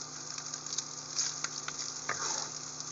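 Rice is tipped into hot oil for spicy shrimp fried rice, giving a faint, steady sizzle with light crackles and a few stirring scrapes throughout.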